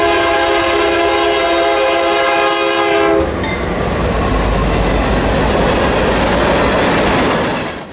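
A BNSF freight train led by a C44-9W and an SD70MAC in Burlington Northern executive paint passes close and loud, its horn blaring for about three seconds before giving way to a steady heavy rumble of rolling cars.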